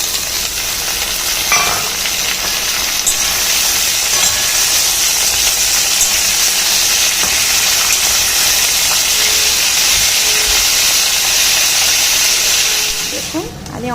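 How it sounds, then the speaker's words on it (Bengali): Pumpkin and potato pieces frying with onions in a pan, giving a loud, continuous close-up sizzle and hiss with faint stirring that stays steady throughout before easing at the end. "দেখুন আমি অনেকক্ষণ ধরেই ভাজছি"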